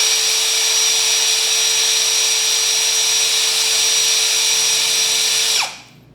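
An INGCO CIDLI205 cordless brushless drill whirs at a steady high speed in gear 1 for several seconds, loud and close, then spins down and cuts off.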